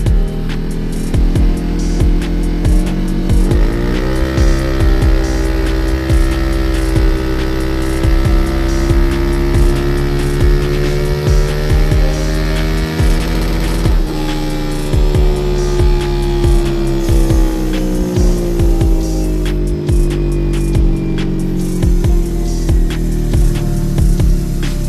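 A Honda PCX 160 scooter with a 62mm stock head revs hard on a dyno, a loud droning engine note climbing and settling in repeated sweeps, with a constant whine and no talk.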